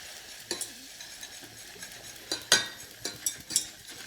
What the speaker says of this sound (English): Now let's have some flour, put it in there and stir it around.